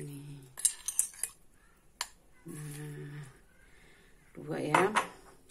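A spoon clinks against a glass in sharp, irregular taps while Nescafe Classic coffee and sugar are added for dalgona coffee, with a voice talking between the clinks.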